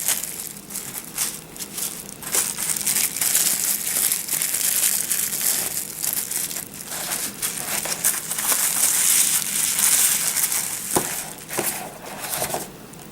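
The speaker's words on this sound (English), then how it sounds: "Bubble wrap." Bubble wrap crinkles and crackles steadily at close range while being pulled off a boxed D&D Collectors Edition Purple Worm miniature, with dense rustling throughout and no talking.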